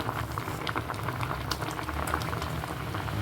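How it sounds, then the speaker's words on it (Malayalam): A pot of cucumber, ash gourd and mango curry seasoned with turmeric and salt boils steadily, giving a dense, continuous bubbling and popping close by, with no talk over it. "വെള്ളരിക്ക കുമ്പളങ്ങ മാങ്ങ ഒക്കെ നന്നായിട്ട് തിളച്ചിട്ടുണ്ട്"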